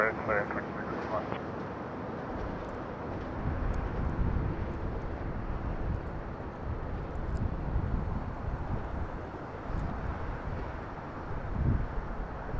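A Virgin Atlantic Boeing 787-9 airliner at Toronto airport gives off a faint, steady, distant jet rumble that swells gently and fades, with low wind noise mixed in.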